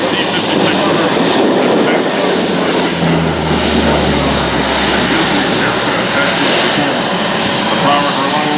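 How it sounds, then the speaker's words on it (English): Aircraft with powerful Allison T-56 turboprop engines making a high-speed, low-altitude pass at an airshow, a loud sustained roar of engines and propellers that swells in the middle, with an announcer talking over it. "demonstrates the low altitude performance of a very powerful Allison T-56 turbine."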